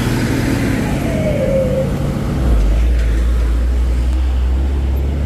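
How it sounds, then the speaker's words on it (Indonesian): Heavy trailer truck labouring up the steep Bukit Kodok climb, a deep engine drone swelling loud and close from about halfway through over steady road noise. "saat ada truk trailer menanjak"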